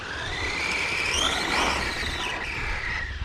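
The Tombola 3 vehicle driving past, a motor whine rising and falling in pitch as it approaches and moves off, fairly close and with no talk.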